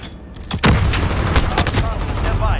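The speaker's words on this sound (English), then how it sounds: "That grenade hit him dead ass" Grenade explosion in a Modern Warfare shooter match, a sudden loud boom followed by sustained rumbling gunfire and battle noise, with players talking over it.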